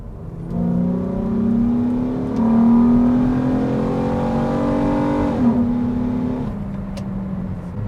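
A 2003 Acura 3.2CL with its J-series V6 accelerating in second gear, engine note climbing steadily and loud and close for several seconds before a brief dip and settling, no talking over it.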